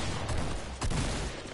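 Sniper gunfire in a first-person shooter video game, two sharp shots about half a second apart over a dense, noisy game soundscape.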